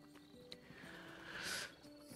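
Horses in the Tavern Manager Simulator video game give faint hoof clops and a short whinny that swells briefly midway, all quiet against a low game-ambience hum.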